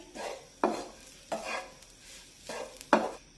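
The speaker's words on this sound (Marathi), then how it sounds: "गॅसची फ्लेम मंद ठेवून हे खोबरं आपण सतत परतत राहूया" Grated coconut roasting on a low flame, stirred continuously: a slow cycle of soft scraping sweeps, each ending in a sharper tap of the spoon on the pan, against a faint quiet sizzle.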